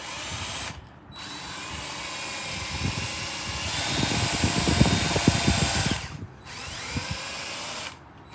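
A power drill with a bit under 1/8 inch runs in several bursts, whirring steadily and bogging down as it bores pilot holes into wood skirting on a mobile home, with short pauses between runs.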